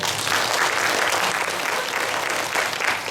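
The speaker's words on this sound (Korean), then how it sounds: "우리 청소년부에서 박수 한번 쳐주세요" In a Korean church, the youth group claps together in a dense, continuous burst of applause from many hands, steady and fairly loud for its whole length, with no clear voices over it.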